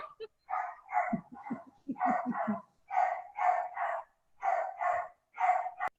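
Dogs bark in rapid clusters of short yaps, repeating in regular bursts with brief pauses between them, fairly close and clear with no talking over them.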